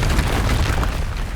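Spell explosions in Hogwarts Legacy, a loud continuous booming burst of blasts filling the whole short moment with heavy low rumble, close and with no talking.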